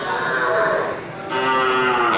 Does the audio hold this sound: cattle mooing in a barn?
yes